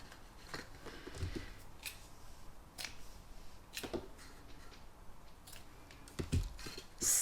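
Scissors snip the ribbon tails of a tied bow in a quiet room, giving several sharp, light cuts spaced a few seconds apart with a final louder snip at the end.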